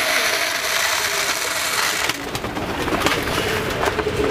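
Fancy pigeons at a large farm in Jhenaidah coo in a busy, continuous chorus, with mechanical rattling and scraping mixed in that thickens partway through.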